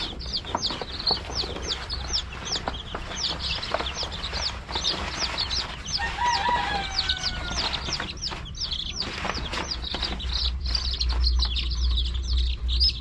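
New pet chickens in a roomy coop keep up a busy stream of close, high chirps and soft clucks, with a low rumble of background noise underneath.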